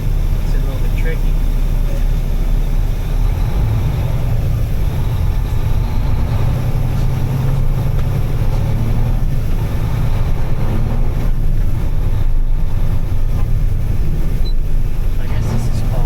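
An auto shift grain truck with a clutch pedal drives along, its deep engine rumble and road noise steady and loud throughout while a voice talks over it.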